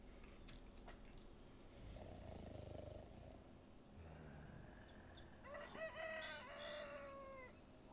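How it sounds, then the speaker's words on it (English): A rooster crows in a long rising-and-falling call near the end of Recycling Center Simulator gameplay, preceded by lower clucking and a rumbling growl over steady background noise. "Who has a rooster?"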